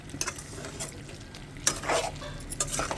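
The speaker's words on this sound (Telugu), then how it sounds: "ముక్కలు అయితే ఉడుకుతున్నాయి." Chicken pieces simmer with fresh ginger-garlic paste in a pan, giving a steady low sizzle with occasional stirring clinks and scrapes, close and continuous, with no voices.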